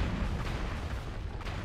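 A mech being destroyed in MechWarrior Online, a deep rumbling explosion with low booming bursts, loud and sustained over a couple of seconds, heard alone without speech.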